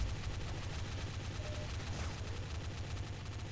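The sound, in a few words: gunfire in Garry's Mod Zombie Survival video game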